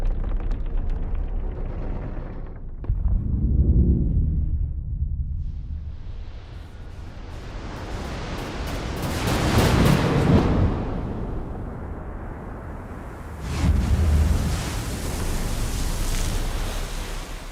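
The Trinity test explosion scene from Oppenheimer plays as a deep, rumbling blast, surging and fading in broad roaring swells with quieter stretches between, loud and heavy in the low end, with no voices.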